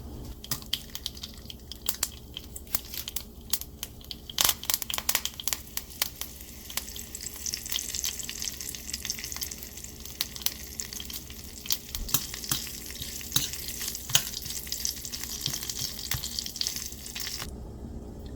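Red chilli and curry powder fry in oil over low heat, a faint steady sizzle with scattered small crackles and pops, close and without talk.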